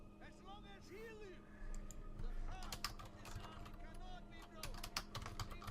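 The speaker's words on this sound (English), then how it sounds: "Look at me typing." Typing on a computer keyboard gives rapid, irregular clicks and key taps, close and fairly quiet, mixed with faint game sounds and background noise.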